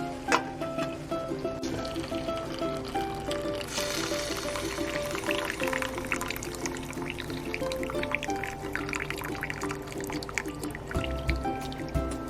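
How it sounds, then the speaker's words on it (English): Chicken cooking juices poured off a pan, a steady trickling, dripping pour that runs continuously at close range over a low background hum. "So we're going to pour the juice off and we're going to reserve it."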